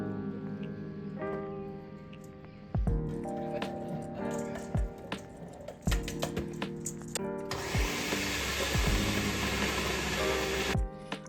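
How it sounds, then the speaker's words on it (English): A blender works through cooked potatoes and cashews, starting with clunks and intermittent whirring before settling into a loud, dense, continuous blending roar in the second half. "The cooked potatoes and cashews also go into the blender."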